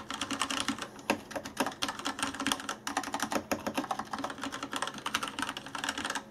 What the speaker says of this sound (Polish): No to już klawiatura mechaniczna, więc niestety jest troszkę głośna.